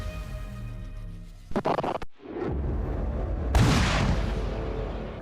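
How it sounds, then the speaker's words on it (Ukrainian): Russian artillery fires on Chechen villages at direct aim, booming blasts and crackling impacts over a steady rumble, with a burst of rapid reports near the middle and a louder, wide roar swelling late. "Російська артилерія, що палить по селах прямим наведенням."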